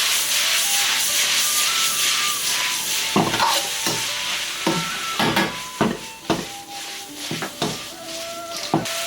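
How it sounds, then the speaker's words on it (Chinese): Squid tentacles stir-fried over high heat with green pepper, garlic scapes, onion and a splash of Huadiao wine, Chongqing dry-pot style: a steady close sizzle, joined partway through by repeated rhythmic scrapes and knocks of a spatula against the wok. "继续用大火炒至同均匀"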